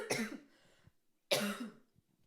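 Two harsh coughs, each a short cluster of bursts, separated by a second of near silence; close and fairly loud.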